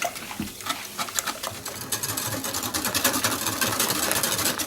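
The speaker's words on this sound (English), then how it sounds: "Now just whisk this together until it's well combined." A whisk beats soda pop together with a 400 g can of sweetened condensed milk for a two-ingredient sorbet, giving a fast, steady, close-up rattling whir that runs without a break and with no voices.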